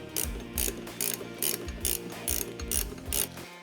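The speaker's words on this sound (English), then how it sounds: "it's important to tighten these nuts equally so that the mounting plate stays level" A ratchet tightens nuts on a light bar mount fitted to a tow hook of a GMC truck, making quick repeated rasping clicks in short bursts, close and fairly loud.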